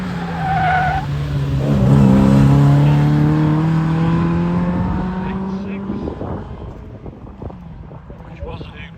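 A race car accelerates up the Harewood hillclimb course with rising engine harmonics and a loud, close pass that fades out in the last seconds, with talk over it.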